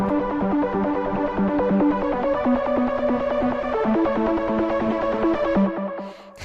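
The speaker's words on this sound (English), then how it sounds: "Here's what the trance pluck sounds like." A trance pluck synth melody in Ableton plays a steady, fast run of short bright plucked notes in a repeating pattern, loud and alone, fading out at the end.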